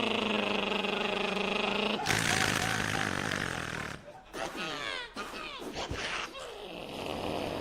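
A stand-up comedian voices an exaggerated snoring imitation on stage: a loud buzzing vocal drone gives way to harsh, rasping roars and sputtering snorts in uneven bursts.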